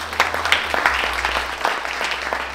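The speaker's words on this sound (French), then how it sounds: "Est-ce qu'on peut l'applaudir?" An audience at a freelance meet-up gives a short round of applause, moderate and steady, over a low constant hum in the room.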